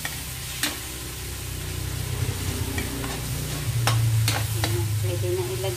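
Shrimp and jackfruit stirred in a sizzling pan for ginataang langka: continuous close frying hiss with occasional sharp scrapes and clacks of a spatula on the pan.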